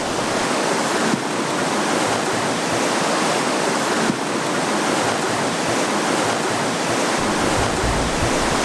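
Steady, loud rush of falling water, a continuous broadband roar like a waterfall or fast stream, unbroken throughout.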